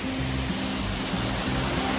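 A waterfall on the Appalachian Trail roars as a dense, steady broadband rush close by, unbroken for the whole stretch with no voices.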